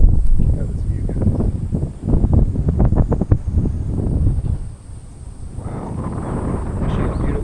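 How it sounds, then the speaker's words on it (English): Gusty wind buffets the microphone with loud low rumbling, while a person talks over it in bursts. "It's so windy."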